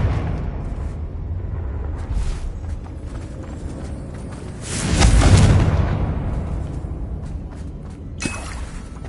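A Confringo explosive spell blast in the Hogwarts Legacy video game, one loud rumbling burst midway that swells and fades over a continuous backdrop of game combat noise, with a smaller crack near the end.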